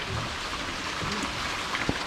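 Steady patter of rain falling on surfaces, a dense hiss with occasional louder drops, continuous and fairly close.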